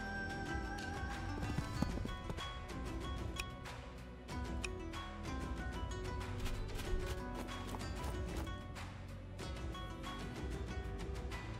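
Horses' hooves clip-clop steadily in a game match on a map called Trebuchet Weather, a busy rhythmic patter layered over constant game sounds and music with no clear pauses.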